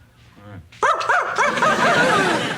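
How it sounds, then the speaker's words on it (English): A dog barks in a sitcom scene, with several close, loud barks and yips following a short low growl, heard alongside voices. "The dog begins to bark."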